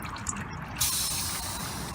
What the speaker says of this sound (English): notice the oil start to drain out of the filter itself as well